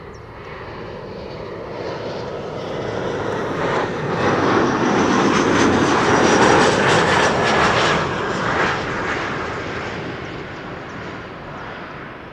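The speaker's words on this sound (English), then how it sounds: "This is KLM flight 1088 arriving from Cardiff, an Embraer 175" A KLM Embraer 175 jet airliner arriving from Cardiff: a loud, rising jet engine roar that builds to a strong peak around the middle as it passes close by, then gradually fades, heard alone.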